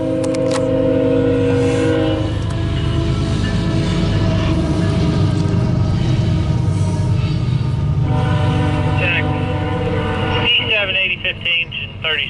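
CSX empty coal freight train rolling past with a loud, steady rumble and clatter of cars, a sustained horn blast early on, and people talking over the noise.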